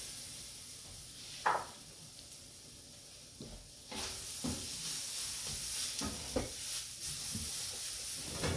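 Grated ginger and garlic frying in a pan for a vegetarian Indian-style dish: a continuous hiss and sizzle that grows louder partway through, broken by a few scraping stirs, with nobody speaking.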